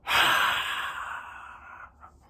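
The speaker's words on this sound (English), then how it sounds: "So take a deep breath in and out." A single deep breath exhaled slowly and audibly close to the microphone, a long airy sigh that fades over about two seconds with a faint trailing breath at the end.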